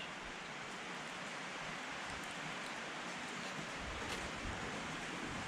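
A rain shower starts over a garden lawn just treated for weeds, a dense, even hiss of falling drops that holds steady with no voices.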